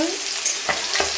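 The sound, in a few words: rohu fish frying in a pan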